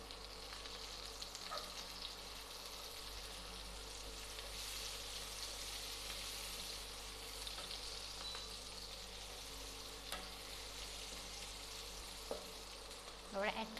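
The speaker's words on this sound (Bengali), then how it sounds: "অ্যাড করে আমি 2 মিনিট ভেজে নেব।" Chopped beans frying in a pan with ginger for vegetable fried rice, a steady low sizzle with occasional stirring clicks, moderately faint and continuous throughout.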